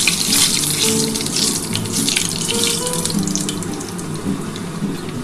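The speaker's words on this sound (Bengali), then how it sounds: "বন্ধুরা আমি কালো জিরে ফোড়ন দিয়ে দিলাম।" Nigella seeds crackle and sizzle in hot oil in a pan as a tempering for a potato and onion-stalk curry, a steady loud hissing fry with no talk.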